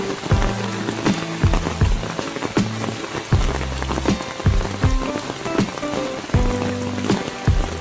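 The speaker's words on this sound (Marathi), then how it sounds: "कारण आता पाऊस खूप आला" Heavy rain pours down steadily on an outdoor riverside fishing spot, loud and continuous with dense pattering across the whole span and no voices.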